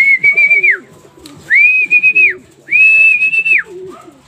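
Young racing pigeons returning to the loft after their first short toss of 3.5 km, with three long, clear whistles standing out loudly over a busy background of softer chirps and rustling; no one speaks.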